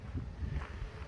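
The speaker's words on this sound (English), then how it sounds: "Windy." A short burst of low, buffeting wind rumbles against the microphone, steady and fairly faint, with no other sounds standing out.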